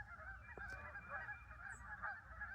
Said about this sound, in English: Listen to those geese